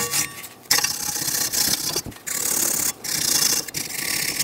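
Steady scraping and rasping on a rusty brake caliper bracket from a 2007-2014 Chevrolet Silverado 2500 HD, cleaned with a file, sandpaper or wire wheel, in continuous strokes broken by a few short pauses, close and loud.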